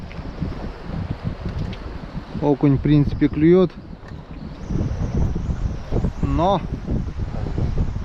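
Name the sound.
wind blowing while fishing from a boat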